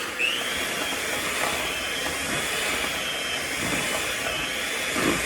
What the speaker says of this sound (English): Now I'm going to take my handy mixer and I'm just going to mix it.